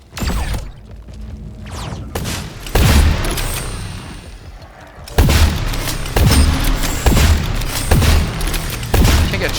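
Rapid gunshots from the arena shooter Splitgate crack in quick bursts, several sharp loud blasts spaced through the stretch with mechanical clicks and thuds between them.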